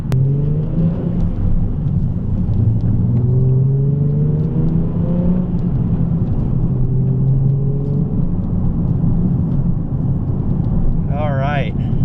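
A salvaged Nissan 370Z Nismo drives and turns in, its engine humming steadily up close with tones that rise and fall gently under a constant low road rumble.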